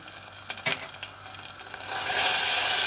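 Meat for Bursa iskender cooks in a pan. A few taps and stirring scrapes come first, then a louder, steady sizzle rises and holds. All of it is close, with no talking.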